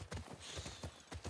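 Horse hooves clip-clop steadily in a video game, with several close, regular footfalls in a quick walking rhythm and a faint background bed.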